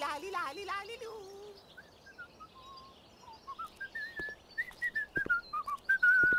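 A cartoon character whistles a cheerful, bouncy tune on its own, a run of short rising and falling notes that grows louder toward the end.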